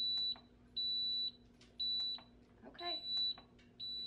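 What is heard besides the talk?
Instant Pot beeping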